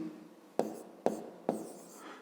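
A pen writes out a math solution on paper, with three sharp taps spaced about half a second apart, each followed by a soft scratching stroke, quiet and close.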